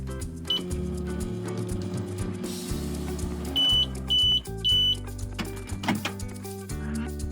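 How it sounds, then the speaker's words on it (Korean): A microwave oven heats a mug of rice and water, running with a low steady hum before three short, clear, evenly spaced beeps ring out close by. "이제 전자레인지에 넣고"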